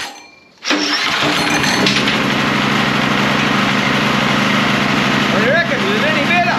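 A repaired generator engine, previously prone to surging, starts up after a short silence and runs loud and steady, with people talking under the running engine.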